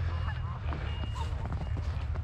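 A goose honks a few times nearby in a snowy outdoor setting, the calls short and mixed with footsteps and rustling, while someone talks over them.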